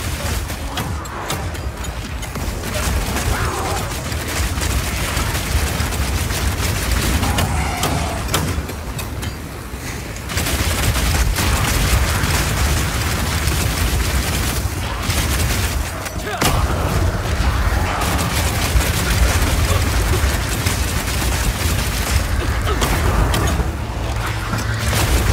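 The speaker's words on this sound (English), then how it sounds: "Now I've been using explosive grenades here, but it will work equally as well with flash or oil grenades too." Explosive grenades fired from a crossbow in the video game Path of Exile 2: repeated booming blasts and crackling bursts over dense combat noise, loud and continuous with brief lulls.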